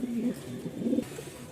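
Pigeons cooing on a pigeon farm stocked with local and foreign breeds, soft repeated low coos sounding close by, with a voice speaking over the birds.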